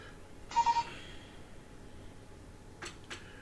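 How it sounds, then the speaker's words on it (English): A short mobile phone message alert chimes once near the start, a bright burst of tones lasting about a third of a second, followed later by two faint clicks against quiet background hiss. "Incoming message. Sorry about that. My phone going off."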